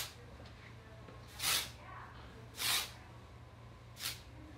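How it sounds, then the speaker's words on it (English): Three short, airy bursts of hair texture spray misting, evenly spaced, hiss close by against a quiet, low background hum. "going in with a little bit of my texture spray"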